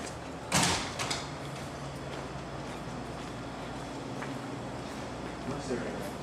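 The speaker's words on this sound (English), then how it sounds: "God, that door's so loud." A noisy door swings shut with a sharp bang followed by a couple of fainter knocks, heard close in a quiet room.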